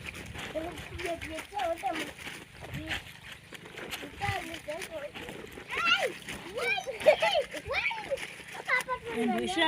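Clothes hand-washed with soap in a basin of water in an African village, with repeated splashing and sloshing close by, mixed with children's voices and people talking throughout.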